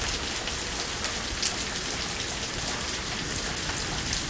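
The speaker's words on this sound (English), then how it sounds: "This here's thunder, but not very well over this rain." Heavy summer rain hammers down in a steady, loud, unbroken wash of drops, with a couple of brief sharper splashes; faint thunder is not distinguishable beneath the downpour.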